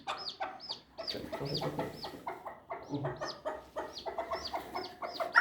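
A brooding hen with a newly hatched chick beneath her gives repeated soft clucks and short murmuring calls in an irregular rhythm, close and moderately quiet, with no talk.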